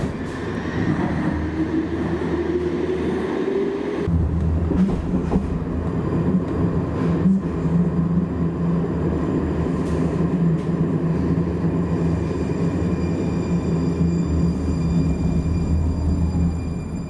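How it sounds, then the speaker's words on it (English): A MAX light rail train closes its doors and pulls away, a steady low rumble and hum building as it departs, with brief clunks near the start and no talking. "The doors are closing. Train departing."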